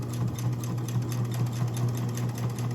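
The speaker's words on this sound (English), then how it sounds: "I'm going to sew all the way around without any backstitching." Sewing machine stitching around a fabric corner bookmark without backstitching, a close, steady motor hum with a rapid, even rhythmic needle chatter running throughout, with no talking.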